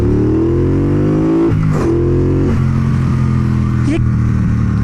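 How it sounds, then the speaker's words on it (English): A 2017 Triumph Bonneville Bobber engine revs up and down several times at close range, its throaty classic exhaust note rising in pitch and falling back to idle. "That's absolutely the perfection in classic exhaust notes."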